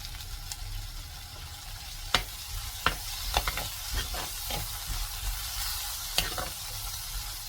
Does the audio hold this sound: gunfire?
no